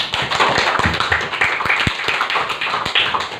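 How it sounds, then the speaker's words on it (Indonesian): A classroom full of people clapping, a dense patter of many hands close by, steady throughout with a few sharper individual claps. "beri tepuk tangan untuk kita semua."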